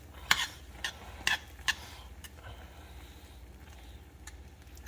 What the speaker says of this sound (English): So you mix it around like so.